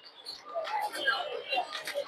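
Pigeons, racers and other breeds, cooing and fluttering at a crowded Sunday pigeon and bird market in Tongi, heard close alongside nearby human voices and chatter.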